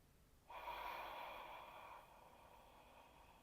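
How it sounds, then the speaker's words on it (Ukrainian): A steady hissing ujjayi yoga breath drawn through a constricted throat, starting abruptly and holding for about a second and a half before easing into softer airflow. "Маєте відчувати характерний шиплячий звук."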